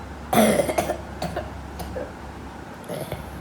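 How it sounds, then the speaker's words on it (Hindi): A few short coughs from a person with a cold, close to the mic, a strong burst followed by weaker ones spread over a few seconds. "और ये वाली खांसी हो रही है"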